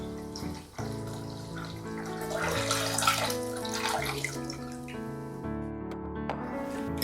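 Filtered water pours steadily into a pot with bay leaves, a soft continuous gurgle and splash that shifts in tone as it fills, with no talking.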